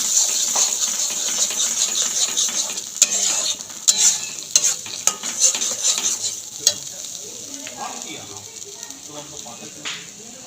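A spice paste of ginger, garlic, onion, boiled green chilli, boiled tomato, cashews and melon seeds is stir-fried for Afghani egg curry, a constant close sizzle broken by repeated sharp spatula scrapes and taps.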